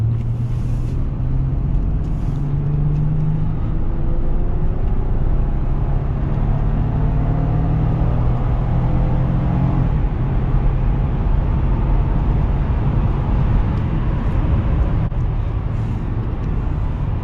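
A 2007 Honda Odyssey EX-L minivan cruises at about 70 mph on the highway, a steady loud rumble of road and tire noise with a constant low drone and no talking.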